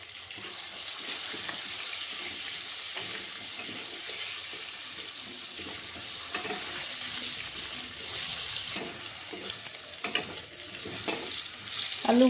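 Potatoes fry in oil with turmeric, a steady close sizzle under a constant hiss, with occasional spatula stirs and scrapes that get louder toward the end; no one speaks.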